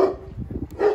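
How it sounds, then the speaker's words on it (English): A dog barking at a market in Kyiv, two sharp close barks at the start and end with a low grumbling growl in between. "Oh boy, that's not even the angry dog"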